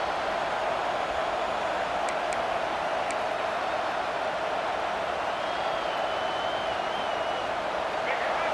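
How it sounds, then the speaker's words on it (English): Broad, steady roar of a home crowd cheering in the EA Sports College Football 26 video game, filling the whole stretch evenly at moderate level with a few faint whistles and calls on top. "this home crowd is fired up and ready to make a difference today"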